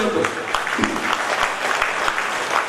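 A seminar audience claps together in a thick burst of applause, with a few louder individual claps standing out over the crowd noise at a steady level.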